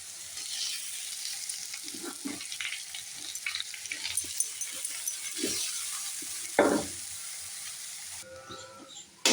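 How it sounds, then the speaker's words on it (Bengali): Flattened rice tipped into a hot pan with a hiss and sizzle, followed by scraping stirring strokes and scattered clinks over a steady frying background; no talking. "এবার চিড়েটা দিয়ে দেবো"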